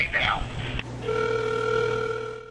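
A telephone call to Mr. Hoffman begins with a brief burst of voice and a click, then a steady electronic ringback tone hums on at an even level through the rest.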